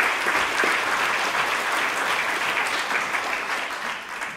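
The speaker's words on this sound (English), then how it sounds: "Applause." An audience at a school award ceremony applauds warmly, a dense, even patter of many hands clapping that holds steady and fades slightly toward the end.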